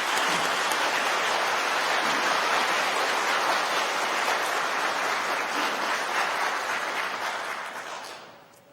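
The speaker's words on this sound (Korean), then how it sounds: "함께 박수 올려드리겠습니다" A church congregation at a Sunday service claps together in a dense, steady burst of applause that holds strongly, then fades out over the final second.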